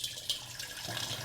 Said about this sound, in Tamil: முதல்ல ஒரு பாத்திரம் கொடுக்கலாம், தண்ணி பிடிக்கிற மாதிரி.